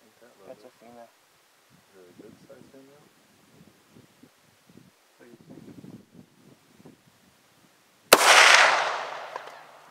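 A crossbow bolt fired during a Texas hunt gives a sudden loud crack late on, decaying into a rustling rush, after stretches of quiet murmured talk between hunters.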